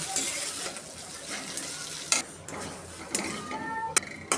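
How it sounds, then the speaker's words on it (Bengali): Pumpkin peel mash, salted, fries in a pan with a soft uneven sizzle, punctuated by sharp scraping and clicking from a spoon stirring against the metal. "এখন সুন্দর করে ভাজা ভাজা করে নেব"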